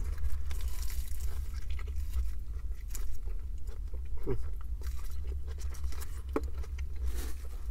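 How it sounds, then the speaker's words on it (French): Someone bites into and chews a Steak 'n Shake grilled mushroom and Swiss burger, with close, soft crunching and wet chewing sounds repeating over several seconds. "je vais mordre ici, il y a un peu de tous les ingrédients"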